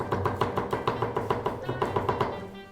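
A knife mincing mushrooms on a cutting board for a pork wellington paste, fast even chops repeating about six times a second, close and crisp, no voices.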